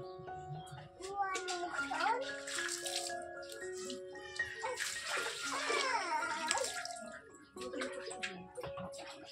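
Water runs into a bathtub while a young child is bathed, a steady splash and flow under someone speaking and a voice chiming in.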